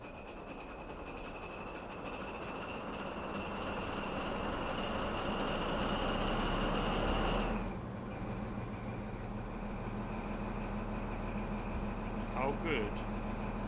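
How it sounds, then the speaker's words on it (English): A Class 43 HST diesel engine starts up in a train simulator game, a steady loud drone with a high whine that swells, then drops away, leaving a lower idling rumble alone. "we're going to start the engine. Let's listen to this engine start."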